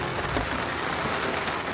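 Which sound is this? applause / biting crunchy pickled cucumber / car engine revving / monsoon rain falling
monsoon rain falling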